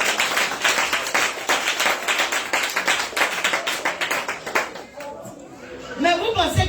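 A congregation at a French-speaking church service claps in steady rhythmic unison to acclaim the Lord, loud and sustained, with voices and chatter mixed in. The clapping thins near the end.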